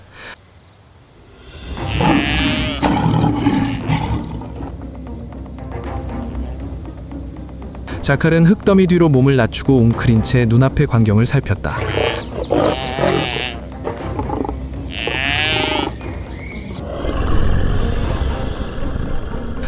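A lion roars while subduing prey, deep rumbling growls and grunts rising in bursts over several seconds, heard under and between a narrator's steady speech.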